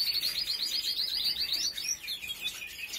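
Young pet birds singing, a continuous run of high thin chirps and trills, close and fairly loud over a faint room background.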